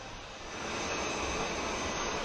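Steady, loud roar of an airplane engine at Naval Base Ventura County filling the whole clip, swelling slightly in the first half-second and then holding constant.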